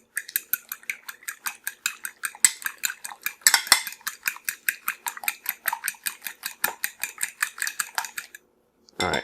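A whisk beats ingredients in a bowl for a coconut shrimp batter, rapid rhythmic metallic clinks against the bowl, close and steady with a brief pause near the end.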